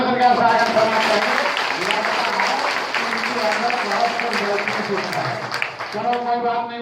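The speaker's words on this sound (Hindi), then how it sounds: "जोरदार तालियों से क्या स्वागत करना चाहिए।" Crowd at a political party cadre meeting in Thane, Mumbai, clapping in welcome, a broad wash of applause running under a loud amplified voice that speaks over it.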